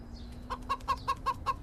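A rooster or hen clucks in a quick series of six or seven sharp, evenly spaced calls, faint and close, with no talking.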